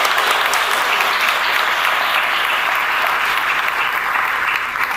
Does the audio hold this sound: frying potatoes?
no